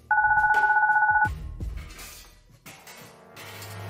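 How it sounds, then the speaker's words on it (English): A baby phone rings in the video game Goodbye Deponia, a rapid electronic trill repeating for about a second before cutting off, followed by quieter rustling game sounds and low thumps. "my baby phone's ringing"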